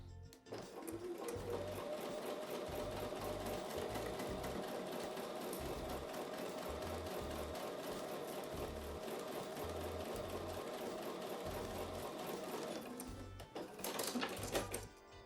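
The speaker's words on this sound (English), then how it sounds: "So I'm going to take those over to the sewing machine and sew with a 1/4 inch seam." A sewing machine stitches quilt block pieces with a quarter-inch seam, running in one steady rapid whir close up, then stopping briefly before a short final burst.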